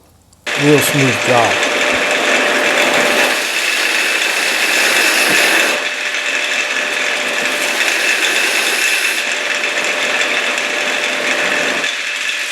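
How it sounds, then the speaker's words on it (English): A sander works a tapered oak table leg, a steady abrasive whir that begins abruptly after a short silence, with brief mechanical rattles near the start and slight shifts in tone as the pressure changes. "I like to do it on a sander. It makes a real smooth job."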